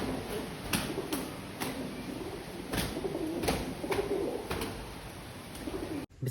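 A group of five pigeons fighting among themselves, cooing steadily up close while sharp, scuffling bursts break through at irregular intervals, with no talking.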